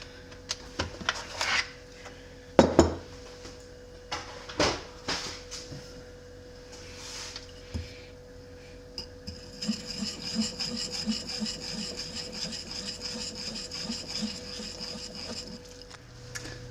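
Sourdough bagel bread dough being mixed with bread flour, heard as close, irregular scraping and rubbing strokes that settle into a steadier, continuous rubbing later on, with no talking.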